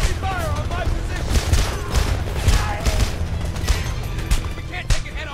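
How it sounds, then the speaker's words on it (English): Heavy gunfire in the shooter Homefront, a relentless close fusillade of overlapping shots and booms with shouted voices mixed in throughout. "Heavy fire on my position!"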